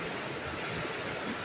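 Strong floodwater rushing along the Marikina riverbank during heavy rain, a steady, dense roar of turbulent water with no pauses, loud and close throughout.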